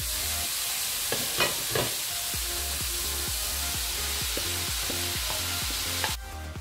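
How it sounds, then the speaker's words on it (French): Meat frying with chopped peppers and onions hisses steadily in a pan, a close constant sizzle broken by a few louder spits and light stirring scrapes, with no talking. "Donc une fois que notre viande commence à brunir, on va rajouter nos poivrons et nos oignons découpés."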